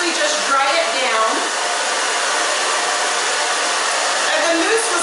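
A hair dryer blows loudly and steadily close by while the back of the hair is dried downward, and a voice talks faintly underneath the whooshing airflow.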